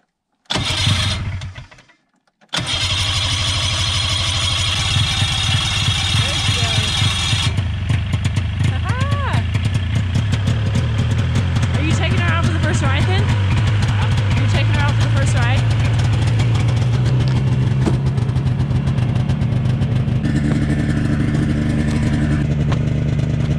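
A snowmobile engine low on gas cranks and briefly catches, then drops out. It restarts and settles into a loud, close, steady idle that runs on, with some clattering over the top.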